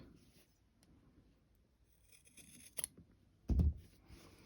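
Scissors snipping through fabric and quilt batting close to a sewn seam, a few quiet cuts followed by one louder, sharp crunching snip near the end.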